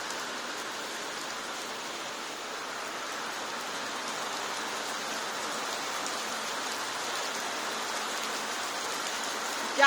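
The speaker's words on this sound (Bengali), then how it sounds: "দেখুন কত জোর ফটা পড়ছে বৃষ্টি।" Heavy rain falls outside a balcony, a dense, steady hiss of drops that stays even and fairly loud throughout, with no voices.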